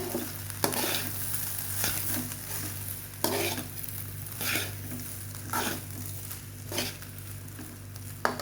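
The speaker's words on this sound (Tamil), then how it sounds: "சாதம் வந்து குறையாமல் மெதுவாக இப்படி கிளறி விடுங்க" Soya fried rice stirred gently in a hot pan, soft sizzling under repeated scraping spoon strokes against the metal, close and fairly quiet without talk.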